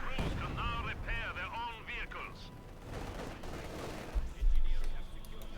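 Field gun and artillery fire from the video game Company of Heroes 2, with a gun hitting a Panther tank; game sound effects and explosions run through the whole clip, a heavier boom near the end, under a speaking voice.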